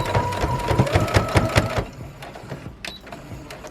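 Sewing machine stitching a fabric planner cover, close and loud in rapid bursts that start and stop, then a brief pause with small mechanical clicks near the end.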